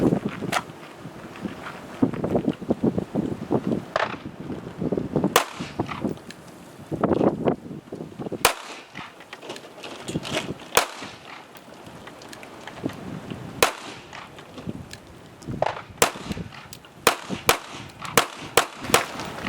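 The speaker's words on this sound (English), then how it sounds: "I'm going to shoot the target right below there then on that half-second cadence, 5 rounds" Pistol fired at a target in a five-round string at a half-second cadence, sharp loud cracks standing out over steady outdoor wind noise, with several further shots spread across the stretch and no talk.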